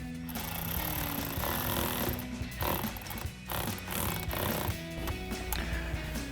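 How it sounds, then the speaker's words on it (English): An 8mm socket tightening the air filter clamp of an S&B cold air intake on a Sierra 1500 truck: rapid, close ratcheting clicks that run steadily for several seconds with brief pauses, no talking. "last thing we gotta do is just tighten down the clamp on our air filter"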